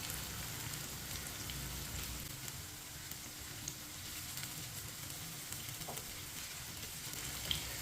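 Okra frying in oil over a medium flame gives a steady close sizzle with soft crackle and occasional faint pops, continuous throughout with no talking.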